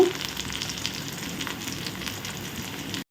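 Green chilies and curry leaves sizzling with half-cooked onion in hot oil for egg masala rice, a continuous even frying hiss that cuts off abruptly at the end.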